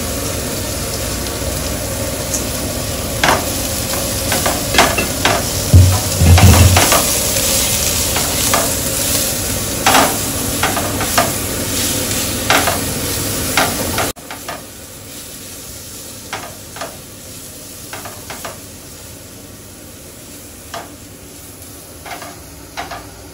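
Potatoes with chopped onion, garlic, salt and turmeric sauté in a pan for a fish-roe kalia, under a constant sizzle broken by repeated scraping strokes of a spatula, growing quieter later on.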